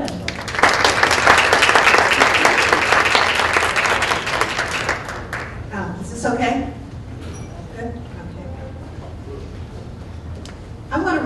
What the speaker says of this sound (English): So please help me in giving a round of applause to Christina Lovin.